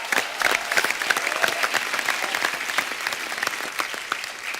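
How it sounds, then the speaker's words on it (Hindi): Loud, dense applause from a TV comedy show studio audience, sustained clapping throughout at a steady level, tapering slightly at the end. "जोरदार तालियां होनी चाहिए।"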